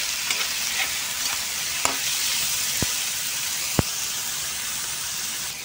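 Chicken for pancit bato sizzles steadily in a hot frying pan while being stirred, with a constant frying hiss and a few sharp utensil clicks against the pan, close and without talk.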